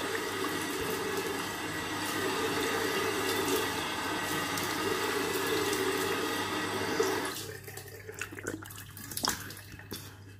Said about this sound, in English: Make sure you wash every soap out.